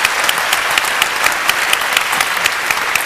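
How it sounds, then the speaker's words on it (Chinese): Audience applause for Mr. Lim at a company gathering: a dense, steady wash of many hands clapping at once, continuous and fairly loud, with no voices above it. "我们需要给 Mr. Lim 一个掌声，真的"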